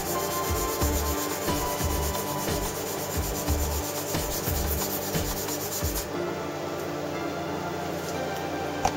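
Rhythmic back-and-forth rubbing of 1000 grit waterproof sandpaper on a model kit part, steady strokes for several seconds before the scraping softens and stops.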